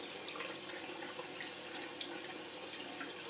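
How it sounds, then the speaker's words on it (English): Cold tap water running over a makeup brush being rinsed, a steady close splashing hiss throughout the short stretch, with no talk. "just rinse it in a bit of cold water"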